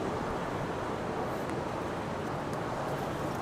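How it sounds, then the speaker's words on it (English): Strong wind buffeting the microphone, a steady roaring rush with low rumble throughout, no voices heard. "Oh man, that wind is nuts."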